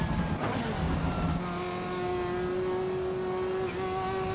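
A race car engine in the racing game Assetto Corsa Evo roars at high revs, its steady harmonic whine climbing slightly, with a brief lift in the middle; loud and close, no talking.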